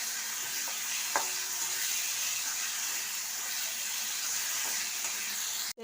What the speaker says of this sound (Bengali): ভালোভাবে এটাকে আমি আগে কষিয়ে নেব।